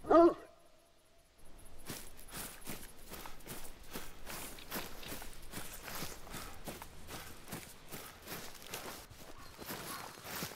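A hunting dog in theHunter: Call of the Wild at the Hirschfelden reserve, with repeated short barks and quick footsteps through brush over steady outdoor ambience, after a sharp loud burst at the start.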